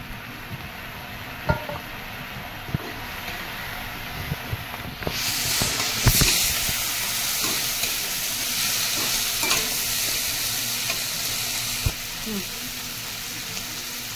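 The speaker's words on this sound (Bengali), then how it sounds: "এবার আমি দিয়ে দিচ্ছি লঙ্কা" Green chillies dropped into a frying pan with grated garlic and ginger, sizzling and hissing close by, followed by scattered stirring scrapes and taps as the oil crackles more strongly partway through.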